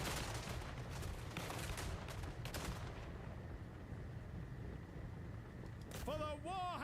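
Musket volley from gunpowder infantry in the battle game Total War: Warhammer 3, a dense crackling barrage of shots rolling on under battle noise before fading, with a voice shouting over it.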